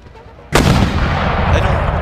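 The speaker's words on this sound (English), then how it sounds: "More mortars." Mortar fire in Empire: Total War with the Darthmod mod: a sudden loud blast cuts in after a quiet lull, then a dense, sustained roar of battle fire continues without a break.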